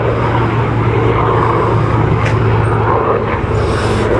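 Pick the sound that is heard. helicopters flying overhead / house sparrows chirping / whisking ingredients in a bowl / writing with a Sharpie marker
helicopters flying overhead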